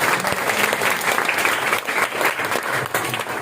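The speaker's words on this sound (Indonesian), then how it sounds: "Tepuk tangan buat Tuhan Yesus" A church congregation at a Christmas celebration claps together in dense, steady applause, loud and close, filling the room without pause.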